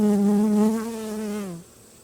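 A single bee buzzing close by near a hive, a loud steady drone that holds for about a second and a half and then fades out, outdoors under a pine tree.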